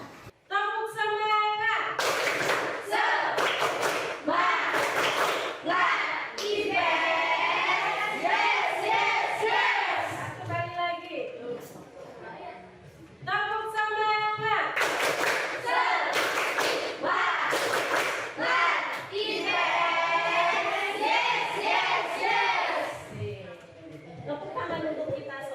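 A classroom of students doing the 'tepuk semangat IPS' clap chant, rhythmic bursts of group clapping and shouted response in two rounds, with a teacher's voice leading between them.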